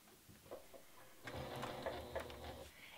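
Sewing machine stitching a quilt by free motion, a steady mechanical whir starting after a second of quiet room noise and running continuously at moderate, close level with no talk.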